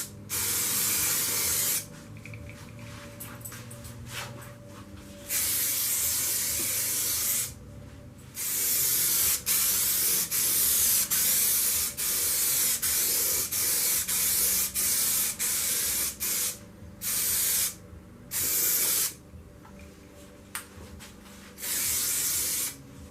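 Aerosol paint sprayed onto a pedal board in repeated loud hissing bursts of a few seconds each, separated by short pauses, close to the listener with no talk.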